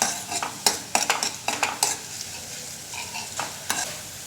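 Finely chopped ginger and the white part of green onion sauté in a pan for a vegetable soup, with a steady sizzle broken by a string of sharp spatula scrapes and clacks that thin out toward the end.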